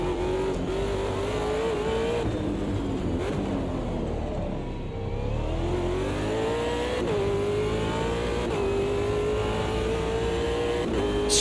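A race car engine in Automobilista 2 revs hard and steadily, its pitch rising and falling through gear changes and cornering. It stays loud and close throughout, with no talk.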